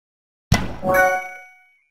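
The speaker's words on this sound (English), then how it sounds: "all the Nintendo YouTubers that use the Switch sound effect for their intros" The Nintendo Switch ding sound effect, a short electronic ding: a soft thud followed by a bright chiming tone that rings out and fades within a second, alone against silence.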